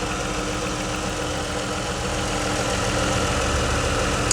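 A car engine idles steadily nearby with a low, even rumble and faint ticking, no voices; the car is overheating from a split heater hose.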